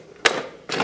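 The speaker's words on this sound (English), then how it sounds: "We're gonna cut this." Electrical wire being cut while wiring a small barndominium: two sharp, close snips about half a second apart, each a crisp broadband crack with a short tail, standing alone against a quiet room.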